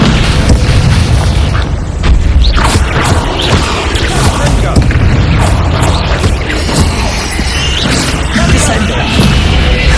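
Descendo spell impacts in the game Hogwarts Legacy, a dense run of loud booming crashes and thuds that continues without a break through the whole stretch, with a voice partly buried in the din.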